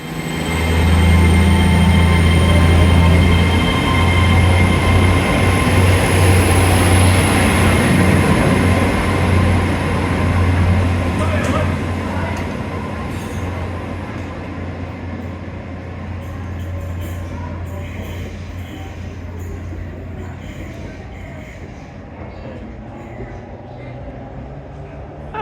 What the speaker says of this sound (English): I think there's a train leaving.